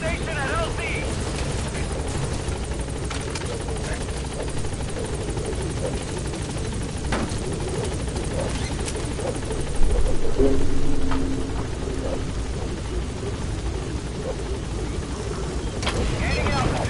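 A helicopter in Metal Gear Solid V arrives at a landing zone with a steady, loud rotor drone and engine whine throughout, with a voice speaking over it partway through.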